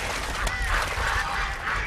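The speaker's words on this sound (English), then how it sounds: "The coots making duck noises." Coots calling with duck-like honking and quacking in a scene from the film Maniac, a few nasal calls over a steady low background, fairly close and without speech.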